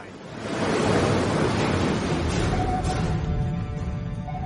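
Ocean waves rolling in toward the shore, a broad steady roar of surf and wash that swells up after the first half second and stays loud and continuous, with a faint tonal hum partway through.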